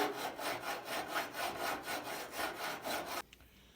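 Hand filing on a Chevy S-10 truck fender: steady back-and-forth rasping strokes, about three per second, close and moderately loud, stopping abruptly near the end, with no voices.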